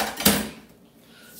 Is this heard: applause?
no